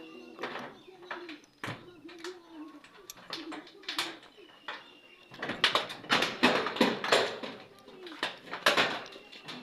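Pigeons in a loft coo in soft repeated calls as the morning gate is opened, mixed with knocks, wingy rustles and clattering; a person talks over the birds nearby.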